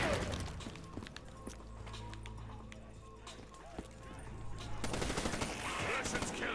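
Gunfire rattles in Black Ops 3 Zombies, with bursts of shots over a busy game soundtrack and a louder clustered volley toward the end.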